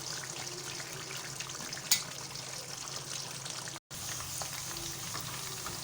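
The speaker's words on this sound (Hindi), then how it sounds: "आलू फ्राई होने शुरू हो गए हैं अच्छे से" Potatoes fry in ghee, a steady close sizzle and crackle with faint clinks and a brief sharp knock, continuing evenly apart from a momentary cut to silence.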